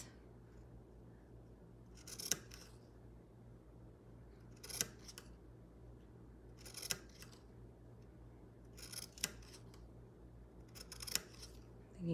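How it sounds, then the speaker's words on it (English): Scissors snipping through a shirt, with about five short clusters of crisp cuts spaced a couple of seconds apart over a quiet room background. "And then I'm going to just start cutting like this."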